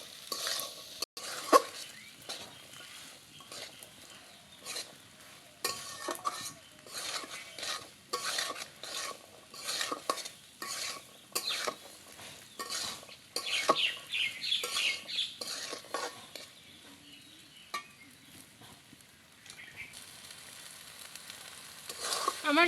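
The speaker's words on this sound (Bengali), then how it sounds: "এবার ছোলাগুলো 5-6 মিনিট কষিয়ে নিব।" Chickpeas being stir-fried in a pan for a vegetarian chickpea curry, a rhythmic series of scraping spatula strokes over a soft sizzle, repeated steadily with short pauses between bursts.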